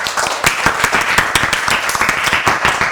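A class of students claps during a teaching session, with dense, close, continuous hand claps ringing out loudly with no talking.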